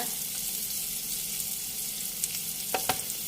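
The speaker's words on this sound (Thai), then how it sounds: "ในระหว่างที่เจียวหอม" Shallots fry in hot oil with a steady, dense sizzle, loud and close, broken near the end by a few brief clinks of stirring.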